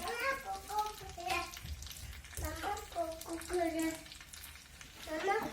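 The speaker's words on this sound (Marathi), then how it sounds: "असे एक एक मिरच्या टाकायचे गरम तेलामध्ये" Green chillies dropped one by one into hot oil for a homemade dal tadka, giving a soft, continuous sizzle and bubbling close by, partly masked by a voice talking over it.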